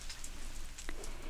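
Light drizzling rain falling outdoors at dawn, a soft steady patter of fine drops with a few slightly crisper drips standing out, faint and continuous with no voices.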